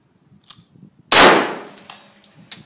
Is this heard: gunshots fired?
yes